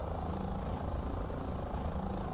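A helicopter in Microsoft Flight Simulator flies with a steady, heavy engine and rotor drone that stays dense and unbroken throughout, with no talking.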